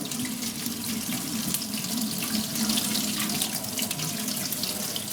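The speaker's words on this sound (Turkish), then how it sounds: "Evet, suyunu iyice süzüyoruz. Biraz soğuk suya tutuyoruz" Cold tap water pours steadily in a kitchen sink over drained manti dumplings, a constant close hiss and splash that runs unbroken throughout with no talking.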